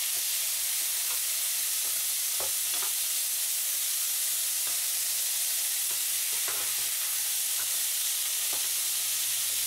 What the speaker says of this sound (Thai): ใส่มันลงไป แล้วก็ผัดรวมกัน